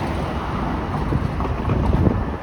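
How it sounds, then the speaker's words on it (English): A steady, loud low rumble with whooshing, wind-like turbulence as a Toronto Rocket subway train rolls into King Station in Toronto, continuous throughout with no voices. "And the train is now arriving at King Station."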